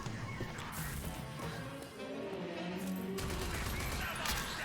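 Gunfire in the video game Rage 2, with shots striking an enemy: a dense, continuous barrage of crackling impacts and blasts that fills the scene at steady loudness amid game noise.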